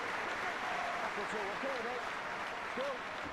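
A rugby league playoff crowd applauds an injured player leaving the field, a steady wash of clapping under a commentator's voice.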